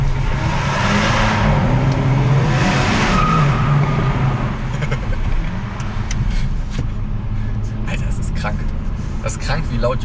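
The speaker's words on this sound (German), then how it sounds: "Krank, wie laut Hyundai die Autos bekommt." A loud Hyundai N performance car engine and exhaust rev and roar on the Bilster Berg track, with rising and falling pitch and sharp crackles near the end, under someone speaking German.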